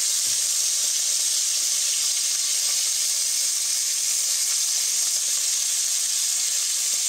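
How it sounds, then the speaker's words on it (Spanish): Steady, close sizzling and hissing of rabbit pieces browning in hot oil, an even crackle that holds without pause. "Vamos friendo y cuando lo doremos bien"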